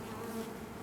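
Honeybees swarm around an open hive frame during a beehive inspection, giving a dense, continuous close buzz that stays steady throughout with no voices.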